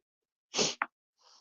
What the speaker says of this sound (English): got a sneeze